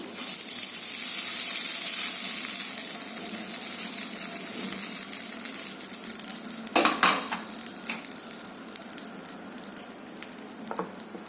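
Curry leaf tempering poured into peanut chutney, a broad hissing sizzle that fades slowly, followed by a few sharp clinks of a utensil against a vessel near the end.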